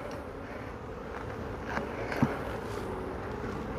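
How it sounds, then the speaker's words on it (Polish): Honeybees at a beehive in an apiary give off a steady, soft, close hum with faint rustling and a few light knocks over it, and no voices. "Dzisiaj pszczoły są spokojne."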